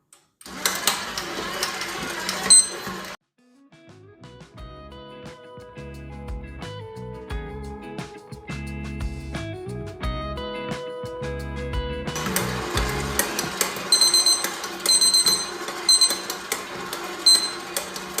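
A stand mixer kneads raisin brioche dough at its lowest speed 1, giving a steady mechanical whir that softens into a quieter, more tonal stretch midway before the fuller motor noise returns. No one talks.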